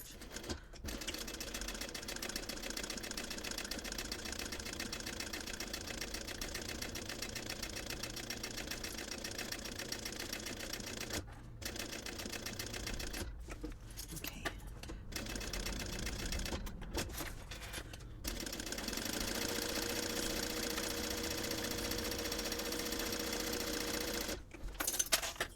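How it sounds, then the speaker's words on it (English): A sewing machine bastes and top-stitches the sides of a small purse, its motor whirring in long steady runs broken by a few brief pauses, close and loud with no talking. "So now I want to baste the 3 sides on this side and top stitch this here"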